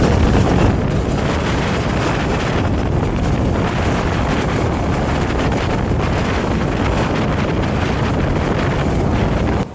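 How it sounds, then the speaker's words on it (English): Strong wind buffets the microphone outdoors while riding a Royal Enfield Shotgun 650 motorcycle in cold, high winds, a loud continuous roaring rumble that fills the whole clip. "it's absolutely Baltic weather. The winds are high."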